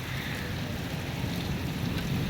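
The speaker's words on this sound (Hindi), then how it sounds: "देखें गाइस कितनी तेज़ बारिश हो रही है" Heavy rain pours down steadily as a dense, unbroken wash during a power outage, with wind blowing it about and no voices heard.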